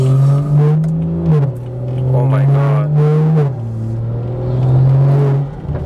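A BMW B58 engine with an upgraded intake revs hard and close, climbing in pitch through several gear shifts with a throaty roar, and a voice briefly exclaims.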